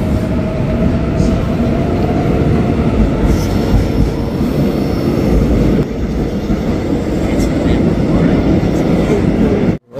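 Subway train riding through Seoul, a loud steady rumble of wheels and carriage noise filling the whole stretch, with faint background chatter and a brief drop at the very end.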